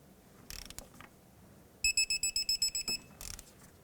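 A click-type torque wrench tightens a castle nut on the outer tie rod of a 2001–2007 Toyota Highlander to 36 foot-pounds. About ten quick, even ratcheting clicks come close up, with a few metallic clinks before and after.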